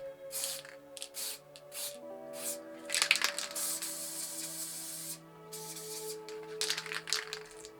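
A Montana Black spray paint can hisses in repeated bursts of varying length while painting art, cutting in and out with short pauses and no talking.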